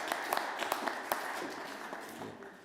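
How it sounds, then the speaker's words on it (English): Light applause from a forum audience in Ljubljana, scattered sharp claps over a soft, even patter that stays fairly faint and fades slightly toward the end. "Big applause for Peter"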